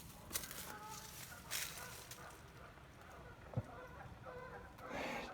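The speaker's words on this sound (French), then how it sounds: "Les canards qui font plein de bruit." Ducks quack in short, scattered bursts over quiet outdoor ambience, with people talking faintly nearby.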